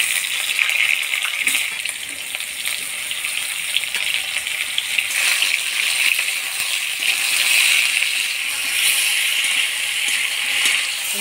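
Ridge gourd frying in hot spiced oil with dry chilli and nigella, a steady, close, broadband sizzle that hisses continuously without pause.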